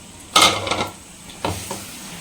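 Thick tamarind water poured into hot oil for a small-onion pickle, giving a sharp splash-and-sizzle burst followed by a second, softer sizzle with faint stirring clatter, close and without talk.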